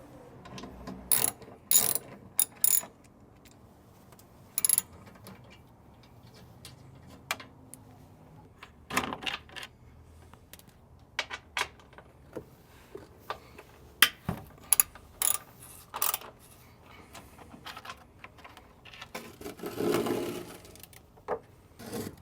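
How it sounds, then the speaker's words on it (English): A 12mm socket on a ratchet removes the bolts of a plastic composite skid plate on a 2024 Toyota Tacoma, giving bursts of quick ratcheting clicks separated by pauses, with some knocks and handling sounds between them. "Now you can grab your 12mm socket and you can remove these bolts here that are holding on this skid plate."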